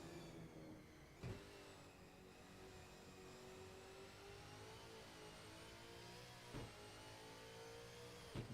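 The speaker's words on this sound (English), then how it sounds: "You can hear cars on the stream now if you have it that way." Race car engines from a V8 Supercars sim racing game at Sydney drone steadily with layered harmonics, holding a sustained tone with a few brief sharp transients.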